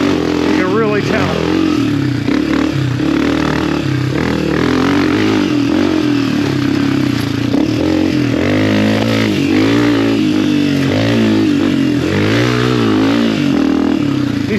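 Honda CRF250F dirt bike engine while riding, a loud, close, continuous motor drone that rises and falls with throttle changes and has a rough, clattery edge, with wind buffeting throughout.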